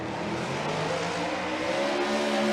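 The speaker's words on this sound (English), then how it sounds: "Oh, Matt Field spins" A Formula Drift car spinning out during a 2021 competition run: a continuous loud roar of engine and tire noise with a steady droning tone and no speech.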